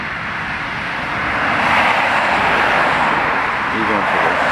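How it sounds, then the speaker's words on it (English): Morning rush hour traffic on a neighborhood road: a steady roar of passing cars that swells as a vehicle draws close in the middle, then stays loud and continuous. "Looks like we got a lot of cars coming now. Well, it's that time in the morning. Rush hour traffic."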